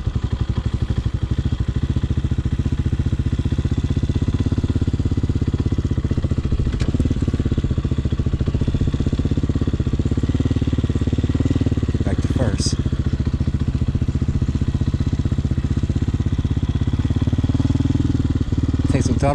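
A street legal dirt bike riding along in a low gear: a continuous, close, buzzy single-engine drone with small throttle swells and rattles, and a voice speaking now and then over it.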